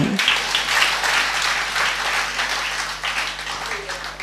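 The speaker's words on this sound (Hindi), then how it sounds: "बच्चा ताली बजा रहा है" Continuous applause fills a hall during a religious discourse, a broad wash of many hands clapping that gradually eases off, with a faint voice underneath.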